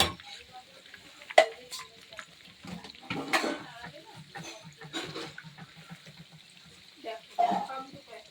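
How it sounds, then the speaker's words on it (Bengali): Pakoras deep-frying in oil for a shop, a soft bubbling sizzle with scattered clinks and stirring sounds, fairly faint, with occasional talk over it. "আমাদের দোকানের জন্য পকোড়া ভাজা করছি"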